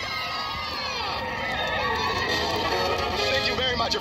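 A crowd of kids at a Yo Gabba Gabba live show cheers and shouts in a steady, loud wash of excited voices, with no distinct chant rhythm.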